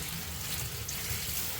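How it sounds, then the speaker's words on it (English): Steady, loud rush of high-pressure water spraying over a yellowing house plant with fresh soil, a continuous hiss with no talk. "and now we're just giving it a shower"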